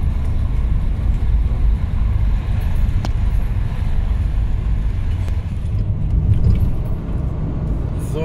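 Car rolling along a road in Turkey, with steady engine drone and tyre rumble filling the whole stretch, loud and close from inside the vehicle, a few faint clicks over the continuous road noise.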